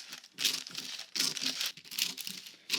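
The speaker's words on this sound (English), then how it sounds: "what I'm going to do now is I'm going to cut that line" Scissors cut through a paper sewing pattern along a bust darting line, a close crisp rasping crunch in several bursts with short pauses between snips.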